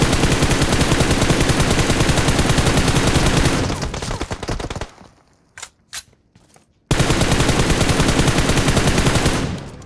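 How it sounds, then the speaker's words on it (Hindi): Rapid automatic gunfire in a battle royale video game, loud sustained bursts that break off into a few scattered sharp shots and silence, then resume as a dense continuous volley. "ऊपर वाला बंदा हम पे जो है तो फायर वगैरह करने लगता है"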